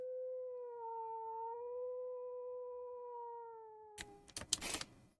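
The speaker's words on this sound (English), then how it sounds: "I am hearing a wolf." A long, wavering wolf howl in a survival video game rises and holds steadily for about four seconds, clear and unaccompanied, before giving way to a burst of loud clattering and crunching game noises.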